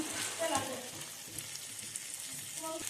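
A fried fish head goes into simmering mung dal, giving a faint sizzle and bubbling with a few soft stirring clinks and splashes.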